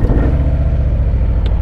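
A 2019 Harley-Davidson Breakout FXBRS with the 114 engine rumbles loudly up close, its deep, lumpy idle thumping in a steady rhythm after starting, with no speech.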